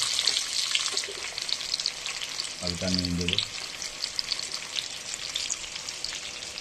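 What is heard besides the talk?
potatoes frying in oil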